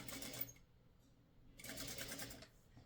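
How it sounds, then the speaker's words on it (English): A sewing machine stitches quilt fabric pieces from a pre-cut scissor and spool kit, running in two buzzing bursts with a short pause between them. "I'm going to try and sew as straight as possible."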